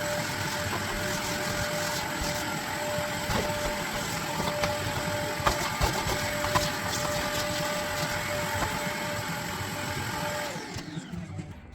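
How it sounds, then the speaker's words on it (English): A vacuum cleaner hoovers up dust on a house renovation site after flooring, skirting and architrave work, running as a steady, close whine for about ten seconds before it cuts off. "So we better hoover up, right?"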